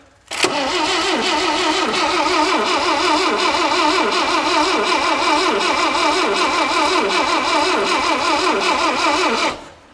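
An Austin Maxi engine, first run in 18 years, turns over and catches, then runs at a steady, slightly uneven mid-pitched chug for several seconds before cutting out.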